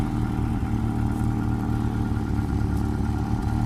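An old 1991 Pontiac Sunbird's GM 4-cylinder engine idles steadily up close on a cold start, a continuous low rumble with slight clattery sputter and no talk.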